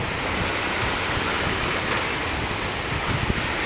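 Ocean waves wash and roll continuously at Station 1, Boracay, with a steady roar of surf and gusting wind buffeting the microphone, no voices.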